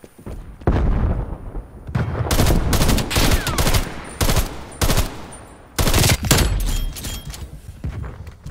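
Gunfire in a zombies video game, loud repeated bursts of automatic fire and heavy blasts separated by short pauses, close and booming with some voice in the background.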